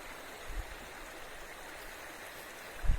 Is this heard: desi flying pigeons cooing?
no